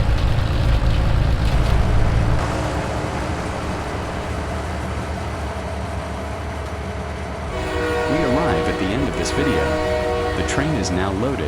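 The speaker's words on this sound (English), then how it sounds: "The train is now loaded and we go to the sawmills." A long, loaded freight train in Farming Simulator 25 rumbles along its tracks toward the sawmills, and a horn sounds partway through. Someone talks over the steady rolling noise.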